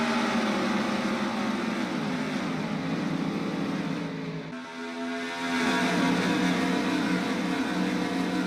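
A field of 42 NASCAR stock cars roars off at the green flag on the fast 2-mile Michigan oval, a dense, sustained engine drone that dips briefly midway, then resumes with a higher, steadier pitch.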